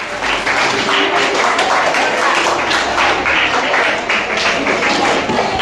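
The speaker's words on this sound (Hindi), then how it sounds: "तालियां" A village crowd at a school competition prize-giving claps steadily for a class 5 boy called up as a winner, dense continuous applause close by with no talk over it.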